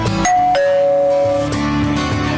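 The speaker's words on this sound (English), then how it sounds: "suddenly doorbell rings" A two-tone doorbell chimes, then a second ding-dong follows about a second later, clear and close with steady background hum underneath.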